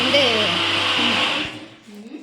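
A mixer grinder grinds roasted gram for a cake, a steady loud motor whir that runs for about a second and a half and then cuts off, leaving quiet kitchen sounds.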